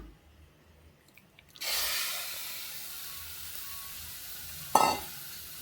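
Food frying in a little oil: a steady sizzle kicks in abruptly and holds, close and fairly quiet, with a brief sharper crackle and hiss flaring near the end.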